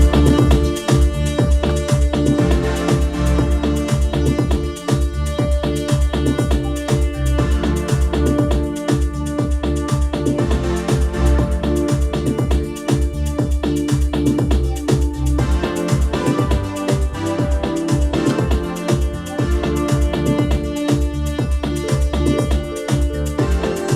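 A tribal Latin house track in full mix with super saw synths pounds along loud and dense, steady four-on-the-floor kicks driving under thick layered chords and percussion, with no voices throughout.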